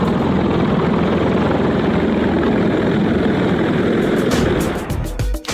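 A helicopter flies close and loud, its rotor blades whirling in dusty, sand-laden air with a constant roaring wash, then a few sharp thumps and clatters as the noise breaks off at the end.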